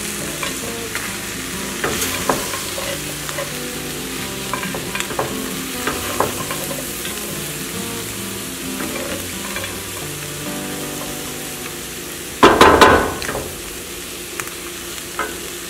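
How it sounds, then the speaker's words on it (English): Corn, peas and cannellini beans get stirred in a pot for a veggie pot pie, with soft scraping strokes over a steady gentle sizzle and one louder clatter near the end. "Give that a stir."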